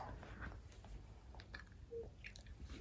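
Chewing a Bean Boozled jelly bean with the whole bean in the mouth, soft wet biting and mastication sounds close to the mic, steady and continuous with no talking.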